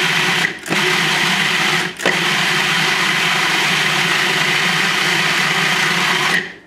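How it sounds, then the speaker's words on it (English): A food processor whirs steadily as it blitzes frozen prosciutto with vegetables for black bean soup, a loud continuous motor hum broken by two brief stops between pulses. "let me just throw it right in there with the vegetables. Pulse it around a little"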